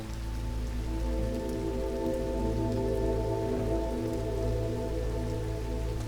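Steady rain patters on surfaces in a constant, even wash of sound, with a sustained low tonal hum running underneath and no speech.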